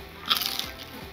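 Crispy fried trout bitten into with a single sharp, crackling crunch up close, followed by faint chewing, no voices over it.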